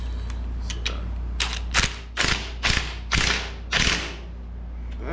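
An impact wrench fastens a bolt on a 1970s Briggs and Stratton-powered tractor, firing a series of short, loud rattling bursts close by, with a few lighter clicks before them.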